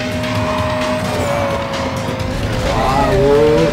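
Racing cars roar and whine through a race in Need for Speed Carbon, loud engine tones shifting pitch as tires squeal, with the player's voice barely present.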